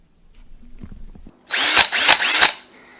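A power drill mounts a tray inside a microwave opening, giving three close, loud whirring bursts in quick succession after a few light taps and handling knocks.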